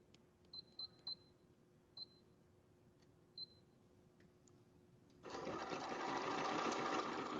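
A sewing machine stitches pajama pieces together, starting with a few faint clicks and ticks of adjustment, then a steady close whirring hum of stitching in the last couple of seconds.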